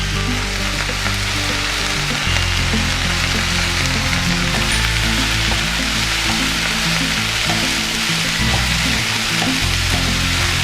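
Cauliflower frying in a pan with onion and green chili, a loud, continuous sizzle heard up close, with occasional stirring scrapes and a low steady hum underneath.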